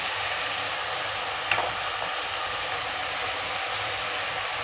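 Small pieces of peeled ridge gourd frying in a pan for a chickpea curry, a dense, even sizzle running throughout with one faint knock partway through.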